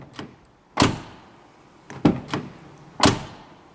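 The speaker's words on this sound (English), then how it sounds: "Just listen to the doors on this." Doors on a Scania truck cab being opened and shut, with four solid thunks spread over a few seconds, the last three louder and close by, each a short heavy impact that dies away quickly, with no talk.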